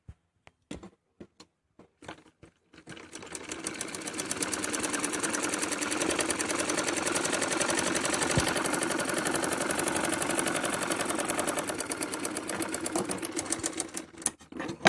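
A sewing machine runs a long continuous stitch along salwar seams, a rapid, even mechanical chatter for about twelve seconds, preceded by a few separate clicks and brief bursts as it starts.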